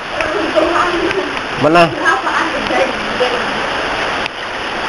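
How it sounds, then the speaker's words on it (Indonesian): Heavy rain pours steadily near a giant cave, a dense, even wash of noise throughout with a voice briefly exclaiming over it. "hujan lebat wuih hujannya luar biasa."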